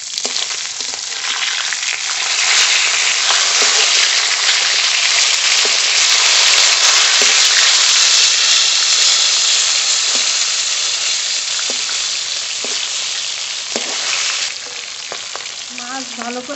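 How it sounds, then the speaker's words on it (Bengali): Whole fish sizzling and spitting loudly in hot oil in a kadai, a steady dense crackle with occasional sharper pops and a stirring scrape, continuous throughout with no voices. "মাছ এদিকে ভাজা হয়ে গেছে"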